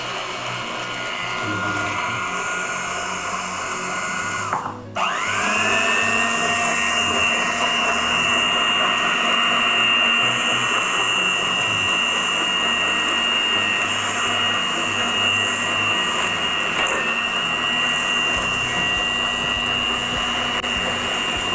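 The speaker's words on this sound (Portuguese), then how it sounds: "Vamos ligar a batedeira" An electric stand mixer whirs steadily while a cake batter is being made in a home kitchen, starting up with a brief dip then holding a loud continuous motor drone with a high whine, no talking.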